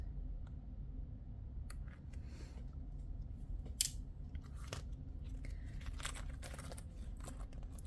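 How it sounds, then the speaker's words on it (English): Quiet snips of scissors cutting sewing threads while a fabric heart pouch is made, a few sharp clicks and crunches heard close against faint background hiss. "I'm gonna cut my threads"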